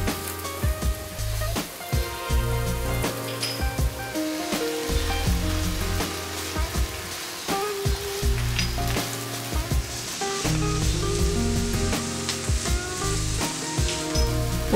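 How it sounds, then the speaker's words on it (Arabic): Shrimp and fish frying in a pan for seafood shell pasta while being stirred in batches: a continuous soft sizzle with scattered stirring clicks, under steady background music. "أضيف السمك على دفعات مع التقليب حتى لا يخرج ماءه."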